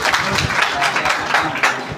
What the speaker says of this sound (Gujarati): અહીંયા બધા જોરદાર તાળીથી વધાવી લઈએ